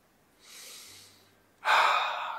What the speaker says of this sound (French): Encore 2 respirations profondes.